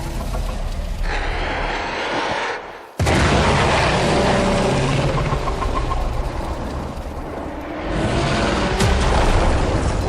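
A loud explosion in the video game Warframe: a heavy, rumbling roar that dips briefly, then bursts back in with a sharp crack and keeps rolling, thick and continuous, close and dominant.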